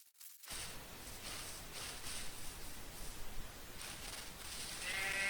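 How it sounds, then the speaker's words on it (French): Sheep bleat faintly in the Minecraft video game, a soft, bleating call under a steady hiss of background noise. "Enfin des moutons."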